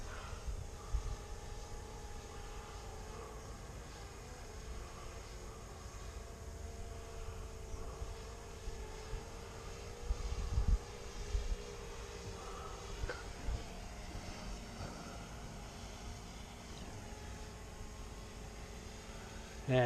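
A small camera drone flies in pursuit of another drone, a steady airborne hum with broad noise that stays fairly even throughout, with a brief low bump near the middle.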